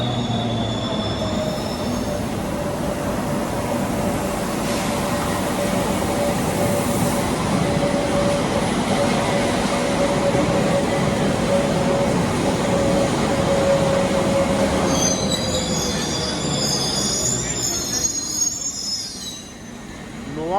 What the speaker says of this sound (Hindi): और ये देखिए एक मेट्रो आते हुए